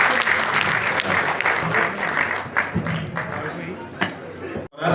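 A conference audience claps as a guest is called to the stage, a dense, continuous round of applause for about five seconds, with a voice talking over it.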